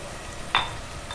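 Tomato, ground garlic paste and turmeric frying in oil, a soft steady hiss broken by one sharp stirring scrape midway, close and fairly quiet with nobody talking.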